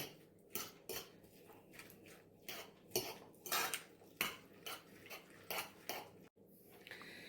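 Eggs with pepper are whisked in a bowl, giving quiet, evenly spaced clinks and taps of a utensil against the dish, about a dozen strokes, fairly faint and with no talking.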